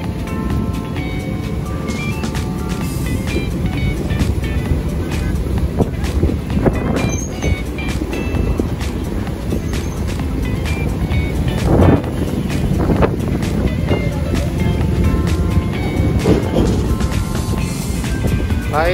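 Strong wind and pounding waves along Manila Bay in bad weather, a loud continuous roar of gusts and surf with heavy wind buffeting on the microphone throughout.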